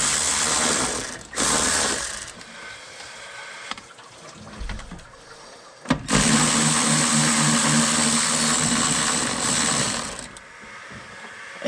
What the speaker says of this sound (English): Turn the ratchet the right way.